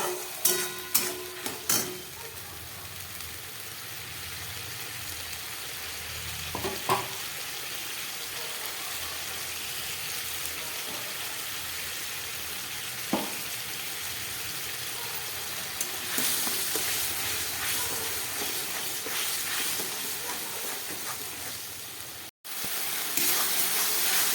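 Onion, ginger and garlic masala paste sizzles steadily in a pan over low gas, a continuous soft frying hiss with occasional stirring clinks and scrapes, growing a little brighter near the end and cut by a brief pause.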